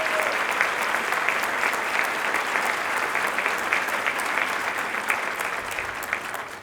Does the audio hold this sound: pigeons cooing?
no